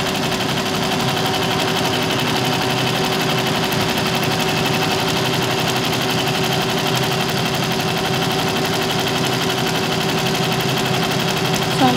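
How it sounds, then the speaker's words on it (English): A computerised embroidery machine stitches a saree border with a continuous, loud, even mechanical whirr and fast rhythmic needle chatter that never stops. "It takes about 5 to 6 hours to complete this kind of work in a machine."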